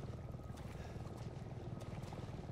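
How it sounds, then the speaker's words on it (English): A helicopter in Resident Evil 7 gives off a faint, low, rhythmic rotor thud that pulses steadily and stays quiet and distant throughout. "Helicopters. That helicopter did not load in properly."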